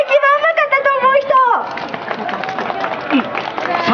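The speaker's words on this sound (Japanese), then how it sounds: "じゃあ拍手の感じで決めよう" Festival audience at a Chofu mascot contest clapping after 1.5 s, a dense sustained patter of many hands following a voice at the start.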